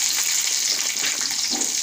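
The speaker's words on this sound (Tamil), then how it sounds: "இப்போ நம்ம வெங்காயத்தை போட்டுக்கலாம்." Chopped onions fry in a pan for onion chutney, giving a steady, close, continuous sizzle with faint stirring and no voices.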